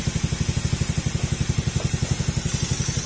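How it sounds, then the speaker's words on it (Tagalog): A Honda Beat scooter engine idles after repair in a small workshop, a steady rapid putter with even, regular pulses and a faint mechanical whine above, close and alone without talk. "papansin nyo yung tunog ng makina niya ngayon"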